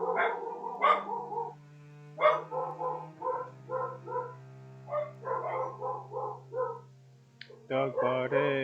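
Dogs in the video game Biomutant bark in repeated short bursts of yelping and woofing, fairly loud and close, in clusters across the clip, with a voice talking near the end.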